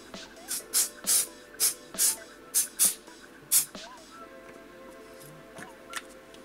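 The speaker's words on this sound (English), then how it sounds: "So I'm gonna spray all of the edges with the ease release." Ease Release aerosol mold release is sprayed onto the edges of a silicone resin-casting mold in about eight short, sharp hissing bursts, close by, followed by quiet handling.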